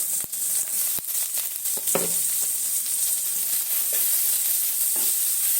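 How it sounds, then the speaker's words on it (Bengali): Onions and garlic frying in hot oil with dried chili in a home kitchen, a steady bright sizzle punctuated by sharp spoon clicks and stirring scrapes against the pan, close and moderately loud with no talking. "আমার পেঁয়াজটা প্রায় ভাজা ভাজা হয়ে গেছে"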